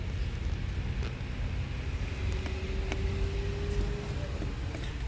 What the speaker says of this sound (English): traffic is not that bad down here right now for a Saturday night.